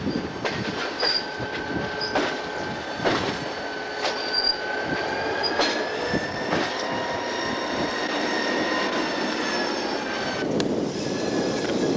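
A CSX freight train passes close by in Indiana, wheels squealing in sustained high tones over a rumbling rolling roar, with sharp periodic clicks of rail joints spaced a second or so apart.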